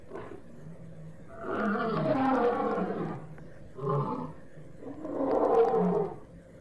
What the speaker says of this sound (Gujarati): સિંહ તો જંગલનો રાજા છે, તેનો અવાજ પણ આપણે સાંભળીએ.